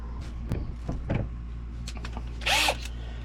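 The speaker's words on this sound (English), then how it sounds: "I'll just use the wonderful cordless drill" Short bursts of a cordless drill whir on and off between quiet clicks and handling noises, ending in a louder whine as a bolt is driven while installing an RV rooftop air conditioner.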